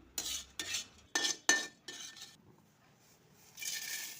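Cloves being dry-roasted in a pan for biryani masala, giving several short stirring scrapes and clinks of a utensil against the pan in quick bursts, with a faint sizzle between them and no talk.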